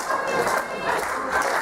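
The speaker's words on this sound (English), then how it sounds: "PWU crowd very much into this match." Wrestling crowd at a PWU pro-wrestling show roaring steadily and loudly throughout, a dense continuous wash of cheering with slight swells, no clear voices standing out.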